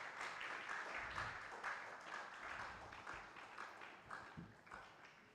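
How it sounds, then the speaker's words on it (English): An audience claps steadily at a formal ceremony on Ghana's natural gas infrastructure, a soft continuous wash of many hands heard from a distance, fairly faint throughout with no voices over it. "Mr. President, please keep clapping till he sits."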